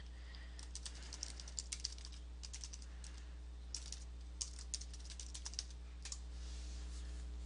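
A chart title is typed into Excel 2010 on a computer keyboard. Quick bursts of light clicking keystrokes come in uneven runs with short pauses, close and fairly quiet over a steady low hum.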